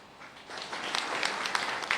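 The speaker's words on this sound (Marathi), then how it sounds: "आता हे नुसतं टाळ्या वाजवू नका" A crowd at a political rally in Pandharpur-Mangalwedha breaks into applause that swells from quiet to a dense, steady patter of many clapping hands, heard alone without speech.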